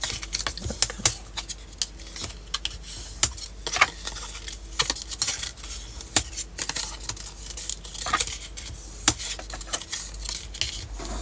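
A bone folder creases folds into a 10 cm cascade scrapbooking card, making many quick, light taps and scrapes in an irregular rhythm, close up and crisp, with no speech.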